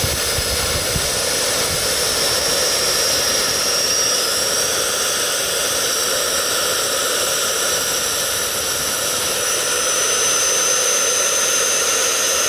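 Harbor Freight 65A plasma cutter slicing through steel nearly half an inch thick, a loud, steady hissing roar with a jet-like rush that holds without a break throughout, with no voices.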